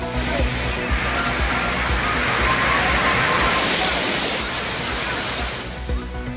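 Thirparappu waterfall, crowded with holiday tourists, gives a steady broadband roar of falling water that swells slightly midway and eases toward the end, with no distinct voices standing out.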